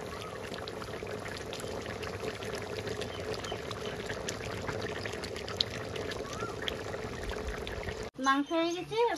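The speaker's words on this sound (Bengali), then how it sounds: "এবার জল ঢেলে দেবো।" Water pours steadily into a pot of cooked, browned meat, a continuous close splashing rush that runs for several seconds before cutting off, followed by a brief voice.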